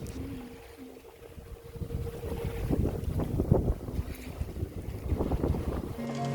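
A sailboat surges at about 9 knots through choppy waves off Cozumel toward Isla Mujeres, with rushing water, hull slaps and heavy wind buffeting the microphone, growing louder midway and staying close throughout.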